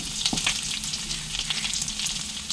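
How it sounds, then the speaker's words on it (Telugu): Mutton liver with crushed garlic sizzles steadily in a hot pan, a dense continuous frying hiss broken by small crackles and a few soft spoon scrapes, close and fairly loud with no talking. "ఇప్పుడు ఇందులో దంచిన వెల్లుల్లిపాయలు వేసుకున్నాము"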